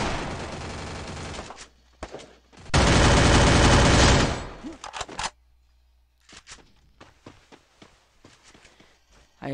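Gunfire in a shooting video game at a house fight: a long, dense roar of automatic fire around the middle, followed by scattered sharp shots and footstep-like clicks amid quieter stretches.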